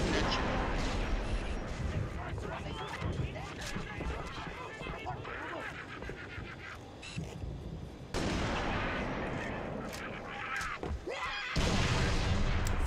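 Sniper rifle fire rings out in Halo Reach amid dense, loud battle noise, with booming shots and crashing explosions repeating throughout over a constant din of combat.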